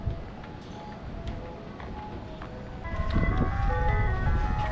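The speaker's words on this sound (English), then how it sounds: "that ice cream truck still plays the same tune" An ice cream truck plays its jingle outdoors in Ocean City, a summer beach town, the tune rising out of steady traffic and ambient noise, growing louder and clearer partway through.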